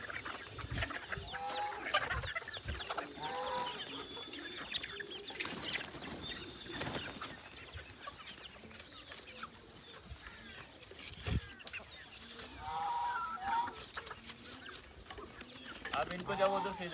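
Chickens and chicks on a farm cluck and chatter continuously at moderate distance, with occasional rooster-like calls and other birds mixed in, while scattered handling noises and brief voices sit underneath.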